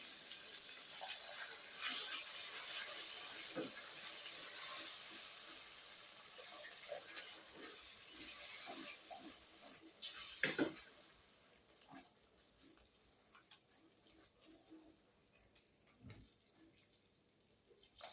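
A small amount of water is poured into a cooking pot, giving a steady close rushing splash for several seconds that thins into lighter trickles and scattered kitchen knocks.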